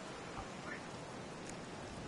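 Rain falls softly and steadily in the video game Child of Light, a faint, even hiss of drops with no other clear sounds and no talking.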